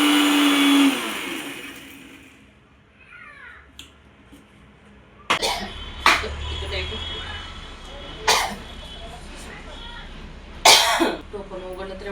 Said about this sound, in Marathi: आता त्यासाठी हिरवी मिरची, लसूण, थोडं आलं जिरं हे बारीक करून घेते.